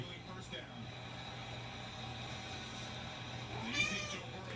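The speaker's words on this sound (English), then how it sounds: "There's a kitty here." A house cat named Rocco meows a couple of times, faint and close, with a brief rising call near the end over a quiet indoor background hum.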